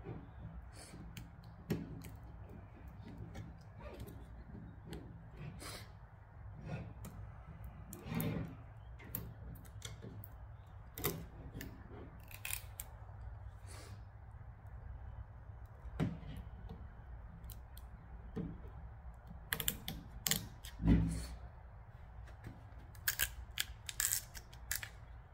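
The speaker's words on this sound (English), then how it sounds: "Peel up over the corners, up over the edges" Vinyl wrap is pulled off the interior door trim of a Cadillac CT6, giving a long run of dry crackles, ticks and small tearing snaps at an irregular pace. The sound is close and fairly quiet, with no talking.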